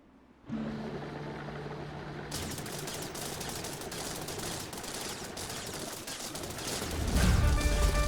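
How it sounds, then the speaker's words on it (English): Turrets firing in the video game TerraTech: steady, dense rapid gunfire that keeps going throughout and swells louder near the end, with no talk. "they're targeting each other, which means I can shoot as I please"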